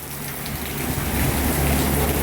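Steady rain pours down near Hat Yai, Thailand, heard from beneath a roadside shelter as a dense, continuous hiss that grows slightly louder over the moment, with no voices.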